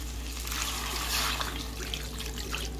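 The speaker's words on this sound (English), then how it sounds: "I'm going to just pour a little water on it" Water poured into a cooking pot of brown stew chicken, a steady, fairly close splashing pour lasting a few seconds without talk.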